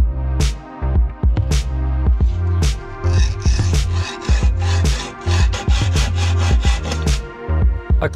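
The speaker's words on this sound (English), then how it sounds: "The next step will be to cut the piston rod to length." A steam engine piston rod for a Fell engine build is cut to length by hand, giving steady back-and-forth sawing strokes in a regular rhythm, close and fairly loud, with no voices.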